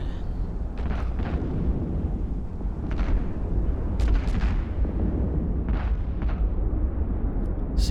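Weapons fire from a Tengu ship in the space game EVE Online during a combat site, heard as a continuous rumble of low booms and blasts with sharp, repeated bursts over a heavy droning bed.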